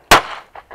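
One loud gunshot, sharp and close, rings briefly before fading, followed by short faint sounds.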